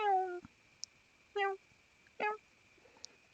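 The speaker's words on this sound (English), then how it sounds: "My cat is coming towards me." A pet cat meows three times indoors, each a short, clear, slightly rising call with gaps between, close and fairly loud against a quiet room with a couple of faint ticks.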